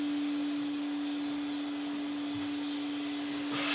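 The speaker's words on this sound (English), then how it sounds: "My husband is upstairs vacuuming using the vacuum cleaner." A steady, droning vacuum cleaner running upstairs hums continuously in the background, muffled as if from another room, with a constant tonal whine.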